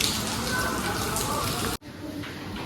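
Steady rain pours outside a dharamshala guest house in Rajasthan during bad weather, a dense continuous hiss that cuts out abruptly for a moment, then returns fainter and more muffled.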